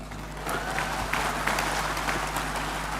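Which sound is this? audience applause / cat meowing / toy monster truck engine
audience applause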